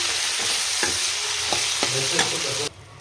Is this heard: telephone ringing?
no